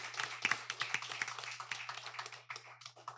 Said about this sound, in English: Please give our timekeeper a round of applause.